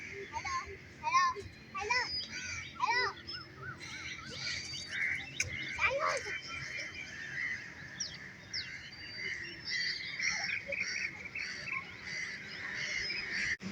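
Crows caw and chirp in a sequence of short calls around a Pakistani family home, mixed with other bird chirps and faint children's voices and chatter in the background.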